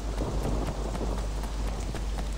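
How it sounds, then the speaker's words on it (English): Steady rain pours in the open-world video game Sleeping Dogs, a dense continuous hiss with soft irregular patters on surfaces, filling the scene evenly for a couple of seconds with no talk. "Oh, it's raining."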